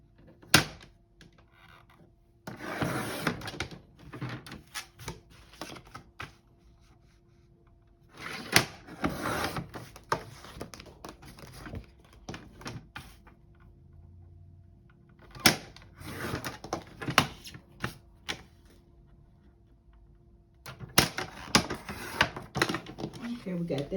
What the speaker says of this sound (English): I am going to go ahead and cut these labels to size